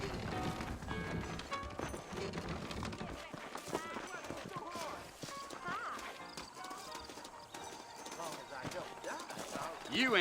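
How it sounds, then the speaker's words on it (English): Horses' hooves clip-clop at a run in Red Dead Redemption, set in New Ulster, with an occasional whinny, close and steady under dense in-game music and effects, with a voice speaking. "I got the horses saddled up and ready out front."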